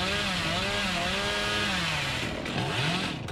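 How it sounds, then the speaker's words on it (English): A chainsaw revs loud and close in the video game Dead by Daylight, a continuous buzzing drone with a wavering pitch that dips briefly near the end. "Let's take a chainsaw across the map here."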